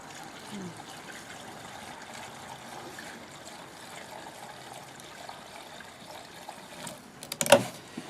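Gasoline pours through a makeshift funnel into a snow plow's fuel tank, a faint, steady trickle that runs for several seconds before a brief, sharper knock near the end.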